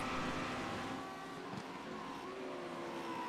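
A Lamborghini Huracan GT3 race car run by RAF Motorsports at Road Atlanta: a steady, fairly loud engine drone with a shifting pitch as the car travels along the track, no voices.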